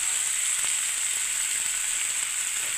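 Cauliflower, potato and chopped tomato fry in a pan with chilli powder and salt, a steady bright sizzle running unbroken throughout with faint scraping underneath.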